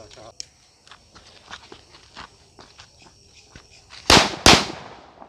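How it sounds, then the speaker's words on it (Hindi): Firecrackers being test-fired for Diwali, two loud sharp bangs close together near the end after quiet shuffling and small handling noises. "हमारा ये कुर्बी वाला पटाखा, जो कि ये लास्ट वाला पटाखा है। तो चलिए इसको टेस्ट करते हैं"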